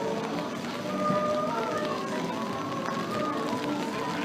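Continuous heavy rain falls at an outdoor German Christmas market, a steady dense patter on surfaces with faint background crowd murmur throughout.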